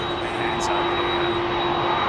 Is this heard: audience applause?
no